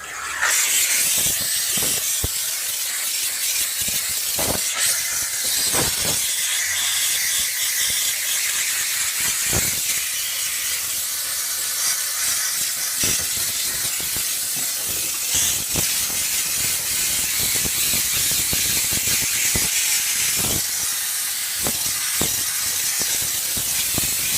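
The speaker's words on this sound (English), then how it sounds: "And steam." A Chief Steamer 125 PSI steam cleaner blasts a vehicle wheel and tire ahead of a paint job, giving a loud, continuous spraying hiss with sputtering bursts and nozzle clicks, close up and steady throughout.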